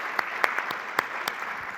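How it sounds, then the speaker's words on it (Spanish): A debate audience gives short, scattered applause, a few separate claps ringing out over a faint room murmur. "Te has ganado un aplauso,"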